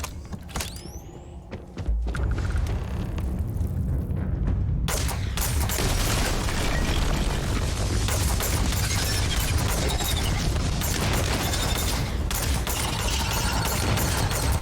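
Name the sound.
explosions in a video game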